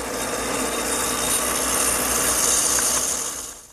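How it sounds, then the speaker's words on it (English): Drill press with a mortising attachment cutting a mortise in oak for a bathroom vanity: a steady, dense grinding and scraping whine running nearly four seconds at close range, fading off at the end. "Now the mortise is cut with this attachment I have on my drill press."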